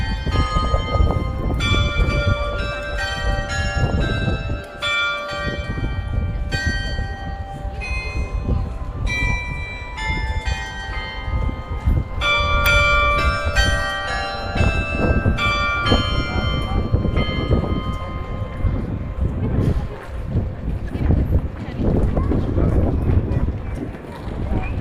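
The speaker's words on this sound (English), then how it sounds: "I missed the beginning of the 12 o'clock chimes" Church bells near Fortnum & Mason in London ring out the twelve o'clock chimes with a rapid cascade of overlapping strokes, loud and sustained over wind rumble and outdoor crowd noise.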